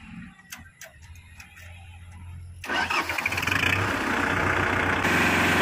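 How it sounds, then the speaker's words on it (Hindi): After a few ticking clicks, a Kubota MU4501 45 HP tractor engine cranks and catches, then settles into a loud, steady diesel idle nearby. "बहुत प्यारी आवाज है ट्रैक्टर की"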